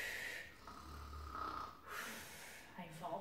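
Children imitating snoring during a Dutch picture-book reading about a dragon, with breathy rasping snore sounds rising and falling over a few seconds, faint and indoors, with voices mixed in.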